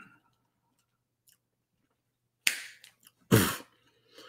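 Two sharp, close finger snaps a moment apart, crisp and dry against near silence.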